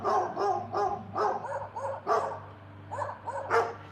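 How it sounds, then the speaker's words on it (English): A neighbor's dog barks repeatedly outdoors, a steady run of about a dozen medium-pitched barks, fairly close and clear, with a low steady hum beneath. "the neighbor dog's gonna bark at me the whole time standing out here"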